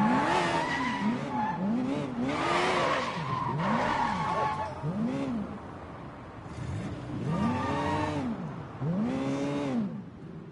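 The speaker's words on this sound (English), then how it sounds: "Oh, you can burn out if you use the handbrake." Car tires squeal and skid through a handbrake burnout in the video game Sleeping Dogs, with repeated rising and falling screeches over engine revving, loud and continuous, and voices talking over parts of it.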